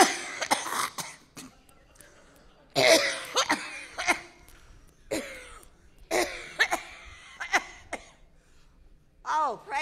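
Repeated harsh coughing fits and throat clearing, close and loud, in bursts over several seconds with short pauses between.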